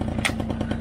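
A small Honda moped engine is kicked over in a short, steady sputtering rattle close by, with a faint rhythmic pulsing and no voices.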